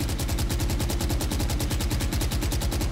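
A Phantom assault rifle from Valorant fires while aimed down sights in one unbroken, rapid automatic stream, with evenly spaced punchy shots at a steady rhythm, loud and close with no talk.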